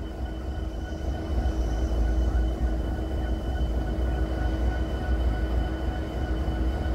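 CSX freight train with locomotives rolls past at Point of Rocks, a steady loud rumble of rail cars with a constant low drone and faint engine hum throughout.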